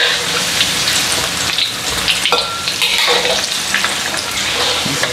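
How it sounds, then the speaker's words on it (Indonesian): Tempeh fries in hot oil in a home kitchen with a steady, dense sizzle and crackle throughout. Small stirring clicks sound now and then, and no one talks. "Minyaknya sudah panas Lik, saya goreng tempenya dulu ya."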